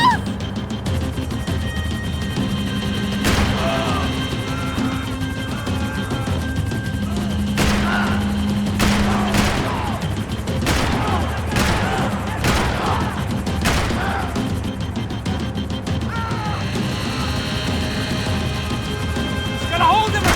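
Gunfire in Max Payne 3: a rapid series of sharp shots and bursts with some booming impacts, spread across a tense chase scene, over engine rumble and shouted voices.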